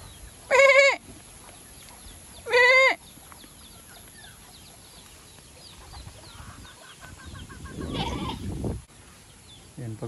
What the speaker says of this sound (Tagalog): Tapos papalabasin ko rin yung mga kambing.